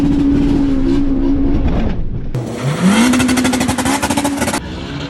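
A 500 bhp turbocharged Honda Civic FN2 launches at full boost with its tires spinning, the loud engine revving up hard. Its pitch climbs sharply after a gearchange, with a dense, raspy roar close by.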